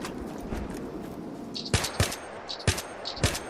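Gunfire in the Battlefield video game: several sharp, loud shots ring out in the second half, spaced in irregular bursts over a low background rumble.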